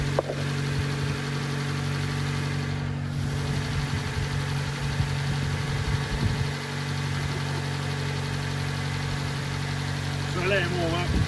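Engine of a Nissan Micra K11 hatchback, heard starting and then settling into a steady, even idle hum with a constant low drone close by, with a brief voice near the end.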